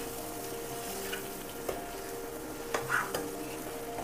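A spoon scrapes and stirs spices, salt and turmeric in oil in a pan, with a soft sizzle underneath, a few sharper clinks standing out against the quiet cooking noise.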